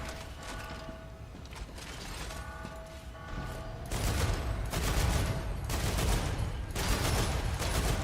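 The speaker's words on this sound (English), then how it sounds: "Reloading." A weapon reloads in the video game StarRupture with mechanical clicks and ratcheting, followed by a dense, loud burst of rapid fire that continues to the end.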